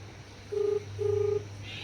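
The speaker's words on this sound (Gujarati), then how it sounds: "લાવો પેલા ગફુરજી ફોન કરું." A telephone number being dialed gives two clean keypad tones, a short beep followed by a longer one, close and moderately quiet over a low steady hum, with no talking.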